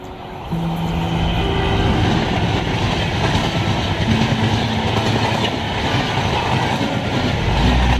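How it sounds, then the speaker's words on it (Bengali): A speeding express train rushes past close by near a Kali temple and graveyard, its loud rumble and clattering wheels building after a quieter first half-second and holding steady throughout. "তার পাশ দিয়ে ছুটে চলেছে দুরন্তগামী ট্রেন"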